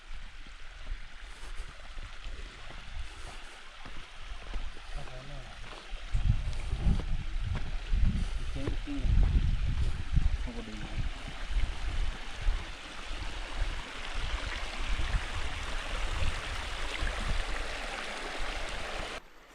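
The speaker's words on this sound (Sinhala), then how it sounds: "අර වතුර පාරෙන් පැනලා තමයි යන්නේ" A mountain stream on Kirigalpoththa rushes steadily as a constant broadband wash of water, growing louder and fuller midway through, with some wind buffeting the microphone and no talking.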